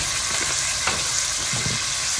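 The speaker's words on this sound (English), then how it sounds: "we're just gonna fry this for a little bit and start adding our dry ingredients" Salmon from a pouch sizzling and frying steadily in a hot pan, a constant broadband crackle with a couple of soft stirring knocks, close and alone.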